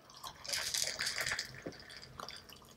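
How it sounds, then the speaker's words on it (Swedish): Tap water runs steadily into a cooking pot for a kebab stew, a broad rushing splash that swells and settles with a few drips near the end, close and fairly loud with no talk over it. "då slår vi på vatten"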